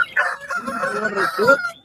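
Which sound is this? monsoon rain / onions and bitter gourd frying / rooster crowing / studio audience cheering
rooster crowing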